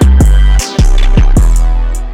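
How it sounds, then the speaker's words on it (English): A hip-hop beat transition built from an open hi-hat, a snare and booming 808 bass hits that thump roughly every half second, loud and heavy, with a brief dropout partway through. "Do that with the open hat, just the snare and the 808 during that little transition"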